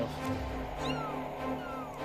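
A kitten gives faint, thin rising meows over steady background hum and low ambient noise near water.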